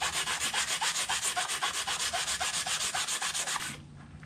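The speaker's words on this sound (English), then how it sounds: "So let's go ahead and sand this thing and get it where we can get it up on there." Rough edges of an outboard motor skeg rubbed with a sanding block in fast, even back-and-forth strokes, about three per second, close and loud, stopping abruptly near the end, with no voices.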